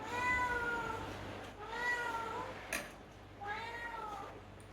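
A cat meows three times, drawn-out and plaintive, with short pauses between calls, fairly close against a quiet room background.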